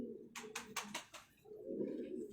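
Large pigeons coo nearby in a few soft, rounded calls, joined by a quick run of fluttering wing flaps, all fairly quiet with no talking.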